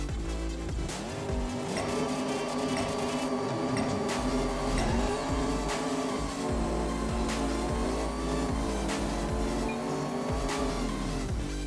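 A racing car engine in an Apex Racer video game race roars steadily throughout, with rising and falling revs and gear changes over a constant synthetic mix of engine drone and tire noise.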